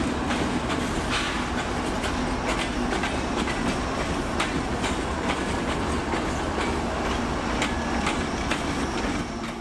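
Freight locomotives of train 441 running light out of a rail yard in Jacksonville onto the main track, a loud, steady rumble with repeated clickety-clack wheel beats and metallic clatter close by, no voices.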